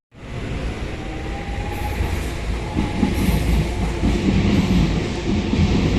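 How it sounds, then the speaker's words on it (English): A DLR light-rail train runs through Canning Town station, its wheels and motors rumbling close and loud as it moves along the track, a steady rolling roar with faint clatter. "Look how busy that train is."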